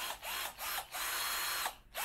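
A cheap 20-volt cordless drill running in short bursts, a high, bright motor whine close by that stops and restarts about four times, with brief pitch sweeps as it spins up and down.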